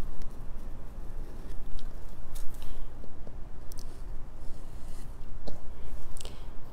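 Scissors cut through gauze fabric and interfacing, giving a series of crisp snips and clicks at irregular intervals over a constant rustling hiss, with no voices.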